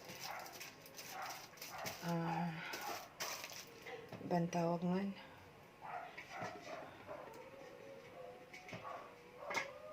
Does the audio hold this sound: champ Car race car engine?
no